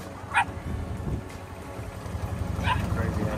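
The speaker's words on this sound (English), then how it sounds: "Crazy ass dogs." Dogs barking near a Carolina Skiff J14 boat, two short sharp barks a couple of seconds apart, somewhat distant, with low background noise and someone talking.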